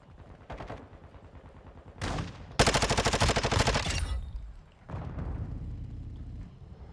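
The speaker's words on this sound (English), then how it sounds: "I'm taking fire." Call of Duty gunfire: a few single shots, then loud rapid automatic bursts that cut off abruptly, and a further stretch of firing after a short gap.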